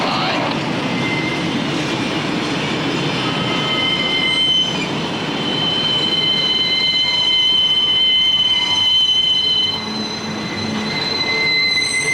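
A work train carrying living-quarters cars for railroad crews rolls past in Pennsylvania, its wheels squealing in long high-pitched tones over a steady rumble and occasional clickety-clack of the rails.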